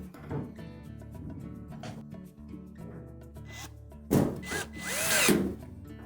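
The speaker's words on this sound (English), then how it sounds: "we'll install the 2 retaining screws at the back" A power drill drives retaining screws into the back panel of a Whirlpool washer, giving short whirring bursts with rubbing and clatter, growing louder near the end, heard close up.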